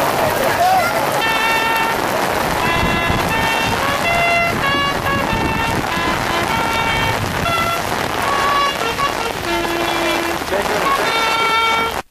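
Heavy rain pours steadily throughout a Youth Week wreath-laying ceremony at a monument, a dense continuous hiss with voices and sustained tones layered over it.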